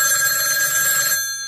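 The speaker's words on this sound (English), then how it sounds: "Sir, get your hand off that phone" A telephone bell ringtone, a comic novelty tone, rings loud and continuous nearby before stopping abruptly and fading out.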